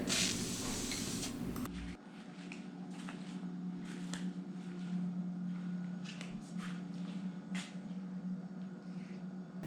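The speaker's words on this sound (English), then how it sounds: "Time to spray and more spray." A steady hiss of spray paint on rusty patio furniture running almost continuously, with a short louder burst at the start and faint clicks and taps around it.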